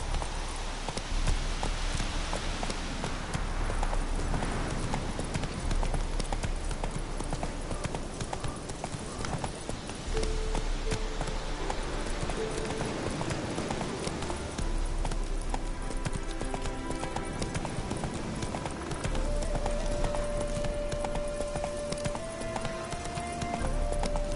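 Roach, a horse in The Witcher 3, walks with steady, close clip-clopping hooves and an occasional whinny over a continuous game ambience, with a voice speaking briefly.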